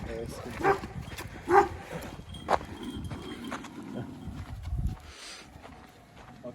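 Dogs bark a few times at a distance amid outdoor bustle, with people talking nearby and shuffling, scuffling movement.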